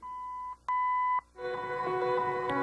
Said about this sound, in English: we're going to hear 4 beeps to the speakers